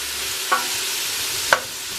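Onions fry in a pan with a soft, steady sizzling hiss, broken by two light utensil taps about a second apart.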